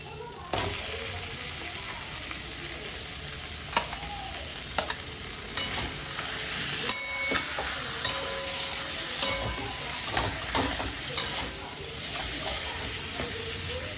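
A fish head fries in a pan with chilli powder, a steady crackling sizzle broken by repeated sharp clinks and scrapes of a spatula stirring, close and fairly loud.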